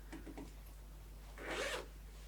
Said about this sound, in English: That is our zip sitting nicely in there.